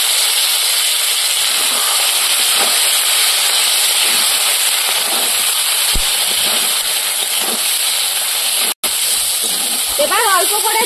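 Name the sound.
water added to frying spice paste on clay stove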